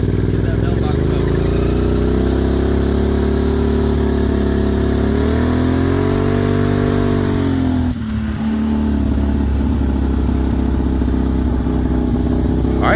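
Can-Am Outlander ATV engine driven down a street, loud close engine drone that rises and falls as the throttle is worked, with a brief dip midway, while someone talks over it.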